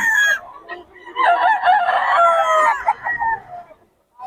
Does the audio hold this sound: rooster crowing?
yes